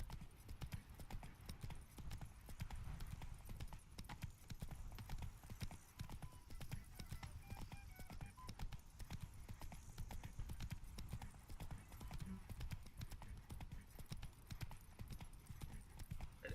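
Steady clip-clop of horse hooves on a riding mount in The Witcher 3's Beauclair, an even, continuous trotting rhythm over ambient game sound, with a faint voice now and then.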